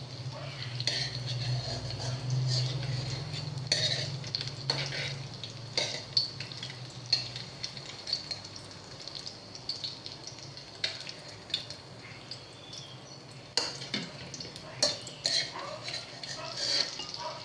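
Fried tofu lifted out of a frying pan, with a soft sizzle of hot oil, a low hum early on, and repeated scraping and clinking of a utensil against the pan.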